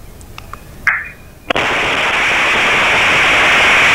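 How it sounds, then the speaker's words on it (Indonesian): A 12 kg gas cylinder explodes inside a house, caught on a neighbour's security camera: a few faint ticks and a brief whoosh, then one sharp blast followed by loud, sustained roaring noise. "Detik-detik ledakan sebuah rumah terekam kamera pengawas atau CCTV yang terpasang di rumah tetangganya."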